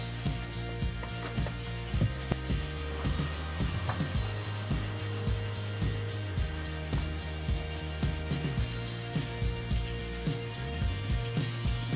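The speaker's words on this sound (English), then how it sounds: "I'm going to take it from 320 grit all the way up to 1200 grit on hand sanding." A steel knife blade is hand sanded with fine-grit paper, up to 1200 grit, for a mirror polish: a steady, close, rhythmic rasping of back-and-forth strokes that runs without a break throughout.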